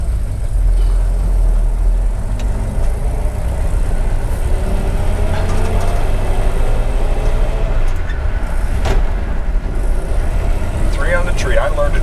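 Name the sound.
1951 Ford F-1 pickup truck driving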